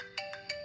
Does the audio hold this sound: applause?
no